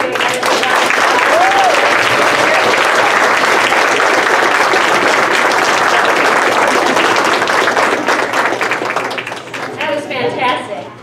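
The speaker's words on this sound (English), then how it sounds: "Can we give all of these poets over here a round of applause?" An elementary school audience applauds student poets with sustained, loud, dense clapping for about nine seconds, a voice rising briefly within it, before the applause tapers off near the end.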